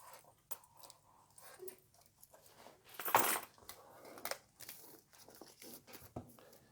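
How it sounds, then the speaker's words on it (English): A Razer phone being pulled out of its plastic wrap, with quiet crinkling and tearing of plastic, one louder rip in the middle, close and faint. "Let's just get it out of the plastic so that we can get a better look at the device."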